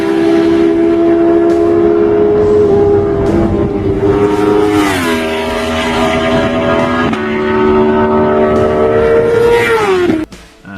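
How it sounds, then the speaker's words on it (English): A 2014 Aprilia Tuono V4 motorcycle howls past on the Snetterton race track. A loud, sustained engine note holds steady, then falls in pitch and rises again through gear changes before cutting off abruptly near the end. "Now here is a clip of the bike coming past at Snetterton."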